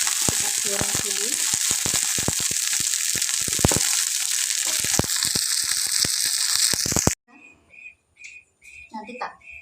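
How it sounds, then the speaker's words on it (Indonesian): Tofu fries in hot oil in a pan, giving a loud, steady sizzle with frequent crackles for about seven seconds before it cuts abruptly to a quieter passage with faint clinks and a voice. "Kita goreng dulu."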